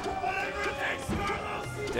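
Crowd at a Super Smash Bros. Melee tournament top 8 winners semifinal, Samus versus Captain Falcon, cheering and roaring steadily throughout, dense and continuous with a swell around the middle, blended with game sounds.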